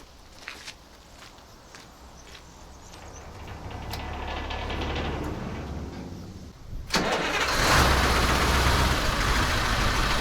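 A KamAZ diesel truck engine is cranked for several seconds, its low rumble building steadily before it catches and jumps to a louder, rougher run near the end.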